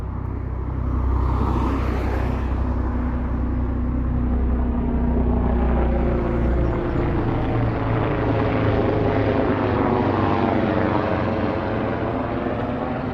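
A helicopter flying overhead in Toronto, a loud, continuous rotor rumble that swells and shifts in pitch as it passes, heard alone.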